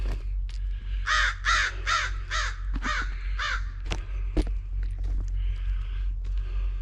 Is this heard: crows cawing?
yes